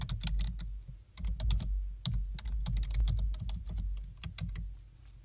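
HTML markup is typed on a computer keyboard: quick, close, clicky keystrokes come in uneven bursts with brief pauses between runs, and no one speaks.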